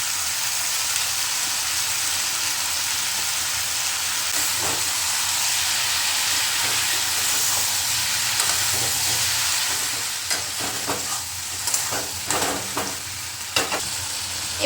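Chopped Malabar spinach hits a hot pan of sautéed vegetables, giving a steady loud sizzle and hiss with scattered stirring clinks toward the end.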